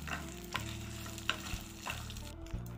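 Ladies finger fries in oil for a chutney, a soft, steady sizzle broken by periodic scrapes and taps of stirring, fairly quiet and with no voices.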